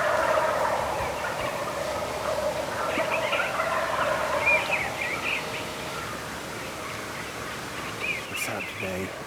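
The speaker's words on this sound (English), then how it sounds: "You got birds gobbling to the right and to the left." Wild turkeys gobble in the distance around an alfalfa field by river bottoms in early spring, repeated rattling calls from more than one direction over soft outdoor ambience, with a voice speaking at times.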